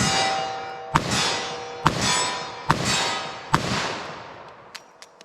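Four loud .44 Magnum revolver shots fired at a 25-yard target, evenly spaced about a second apart, each a sharp crack with a ringing, metallic decay, followed by a couple of fainter distant pings.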